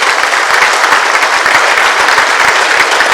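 Audience applause after a speech at a stage event in Chennai, a dense, loud, continuous patter of many hands clapping with no talk over it.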